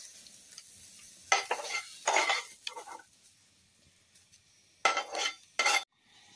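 Dried fish frying in a pan with a low sizzle, as a utensil stirs and scrapes in several loud bursts separated by pauses, close by.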